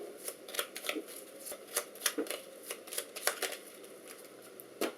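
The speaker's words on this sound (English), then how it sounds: "I had to shuffle the discard pile." A discard pile of cards is shuffled by hand during a tabletop board game, with a run of quick, papery riffles and flicks in irregular bursts, close and fairly quiet.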